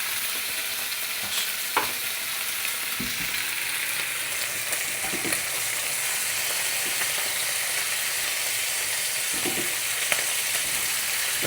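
Butter sizzles in a frying pan with a steady, bright hiss and crackle, broken by a few sharp taps and scrapes of stirring, close and continuous with no talking.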